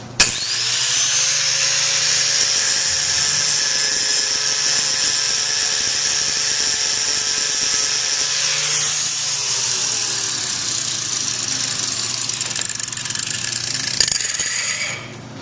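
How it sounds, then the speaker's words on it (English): A grinder works steadily against a hard ceramic composite wear coating, producing a sustained high-pitched whine and grinding hiss for about fifteen seconds. The pitch dips briefly partway through, and there is no talking. "So I'll grind on here so you can see how this works compared with this and the ceramic."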